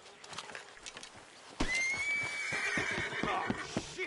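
Horses in a video game give a loud, close whinny that rises and trails off, with hooves clip-clopping before and after it and faint voices in the background.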